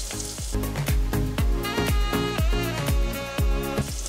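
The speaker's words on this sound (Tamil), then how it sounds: "இஞ்சி பூண்டும் நல்லா வதங்கட்டும்." Ginger and garlic fry with onions in a pan for a mutton paya curry. A loud, close sizzle carries a regular, rapid series of stirring scrapes, roughly two per second, with no voices.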